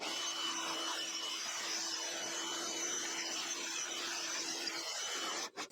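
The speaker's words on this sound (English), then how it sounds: "what I call a bee blower" A steady, loud motor whine from a small DeWalt 20V cordless blower used for bee removal runs continuously, with a sustained tonal hum and broad airy rush, cutting off abruptly near the end.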